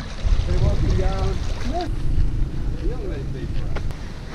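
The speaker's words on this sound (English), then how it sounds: "it's really, really windy." Strong wind buffeting a microphone beside the long suspension bridge in Hunza, Pakistan, a steady loud rumble throughout with a person talking over it.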